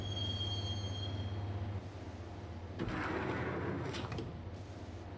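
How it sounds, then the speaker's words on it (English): A train rumbles along the tracks in the video game Max Payne, a low steady hum, then metallic clanks and squeals rise midway, moderately loud and close. "the train doors had already shut behind me, and I was in for the ride"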